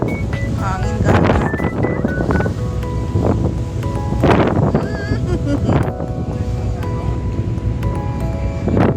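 Strong wind buffets the microphone during a boat trip to Romblon, roaring in gusty surges beneath people talking nearby, with engine and water noise underneath.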